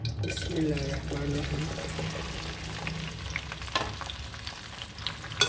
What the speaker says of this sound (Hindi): अच्छे तरीके से हमने इसको फ्राई कर लेना है